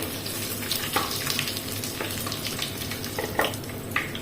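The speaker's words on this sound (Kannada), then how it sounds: "ಒಂದು ನಾಲ್ಕೈದು ಎಸೆಳು ಬೆಳ್ಳುಳ್ಳಿ ಜಜ್ಜಿದ ಬೆಳ್ಳುಳ್ಳಿಯನ್ನು ಕೂಡ ಹಾಕ್ತಾ ಇದ್ದೇನೆ" Crushed garlic, cumin and urad dal sizzle in hot oil with a steady, close crackling hiss, punctuated by a few brighter pops and spatters, with no voices over it.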